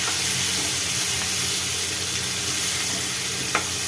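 Brinjal frying in oil for a masala gravy, a steady loud sizzle and hiss close by that carries on throughout, with one faint tap near the end and no talking.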